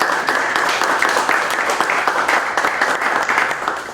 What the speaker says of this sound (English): Let's give Josh a round of applause for coming down